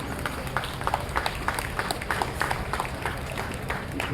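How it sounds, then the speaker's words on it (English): An audience at a school inauguration for a pre-primary section applauds the dignitary, with scattered, moderately loud claps forming a continuous patter over a low hubbub. "A huge round of applause for our dignitary."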